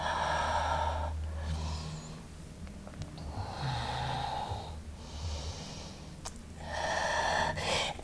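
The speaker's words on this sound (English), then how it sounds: "Ujjayi breath." Slow ujjayi breathing during a yoga strength practice, three long, hushed, throaty breaths each lasting a couple of seconds with gentle pauses between, close and steady, with no talking.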